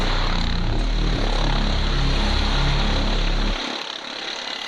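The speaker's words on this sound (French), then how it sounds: "l'hélico arrive, mais à cause de la pente, il peut pas se poser à mon niveau" A rescue helicopter arrives over a steep mountain slope, its engine and rotor roar loud and steady before dropping off sharply near the end.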